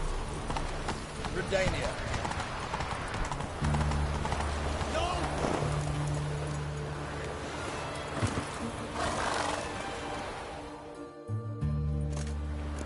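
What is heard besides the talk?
horse galloping in the video game The Witcher 2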